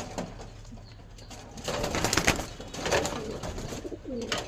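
Pigeons coo softly in a steady, low murmur, with a few wing flutters and shuffling sounds mixed in nearby.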